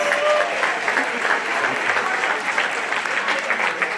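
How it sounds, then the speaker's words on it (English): Large crowd at a high school event applauding state champions in Business Professionals of America, a dense, sustained roar of clapping that stays loud and even. "Big round of applause for the Business Professionals of America state champions."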